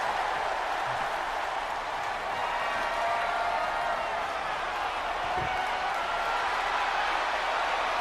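A wrestling video game crowd roars during a women's match with table spots, a constant, fairly distant wash of cheering and noise that holds steady throughout.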